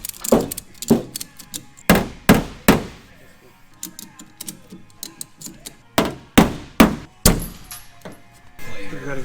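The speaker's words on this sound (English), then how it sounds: "Weld this tab and try to get that buckle out of it." Repeated sharp metallic bangs and thuds while a dent is pulled from a truck bedside using a welded tab, loud impacts in irregular bursts with quieter clanks between and a few mechanical noises near the end.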